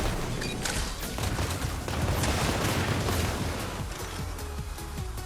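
Rapid, overlapping explosion bursts from the Blast Man stage in Mega Man 11 crackle almost nonstop like a fusillade, loud and close, with sharp pops scattered throughout.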